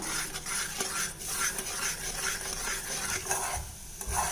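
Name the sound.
stirring boiling milk mixture in pan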